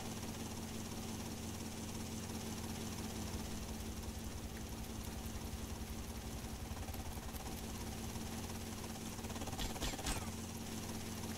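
A steady low engine drone with a faint rhythmic rotor chop from a helicopter in the video game GTA Vice City, constant and fairly quiet throughout.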